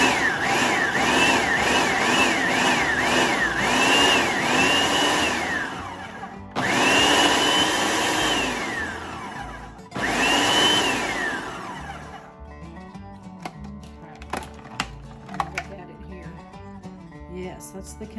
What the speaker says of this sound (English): Now that you got all of that into your food processor